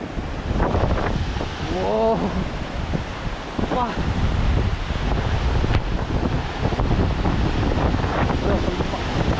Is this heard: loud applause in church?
no